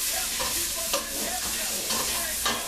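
White chicken chili simmers in a pot with a steady, close sizzling hiss and occasional stirring scrapes against the pot, with no voices.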